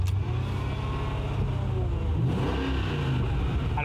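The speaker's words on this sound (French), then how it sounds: "il est temps d'entendre ce fameux V8" V8 car engine, a car worth 250,000 euros, idling with a deep rumble and then revving up and settling back, heard close and fairly loud with no speech.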